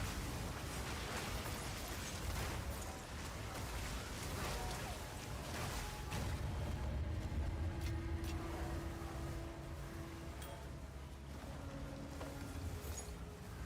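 Frozen explosions in Path of Exile 2: a dense stream of bursts and crackling impacts over a rumbling game soundscape, with a few tonal chimes layered in, moderately loud throughout.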